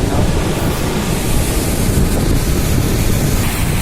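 Strong sea waves pound the shore at Nandgaon beach on the Konkan coast, a loud, unbroken roar of surf with heavy wind buffeting the microphone throughout.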